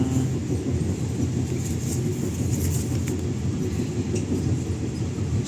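Steady low rumble and rolling rail noise heard from inside the KA Majapahit economy passenger train as it approaches Kepanjen station, continuous and fairly loud with faint higher rattles.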